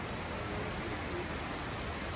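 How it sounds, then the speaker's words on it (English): Steady rain falls outdoors at a radio-controlled aircraft gathering, a dense, even hiss of drops with no voices over it. "Because it's raining quite a bit."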